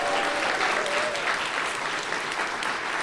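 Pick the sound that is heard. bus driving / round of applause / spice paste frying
round of applause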